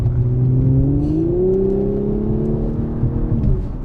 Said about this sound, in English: transmission whine, and the exhaust, and everything together is just chef's kiss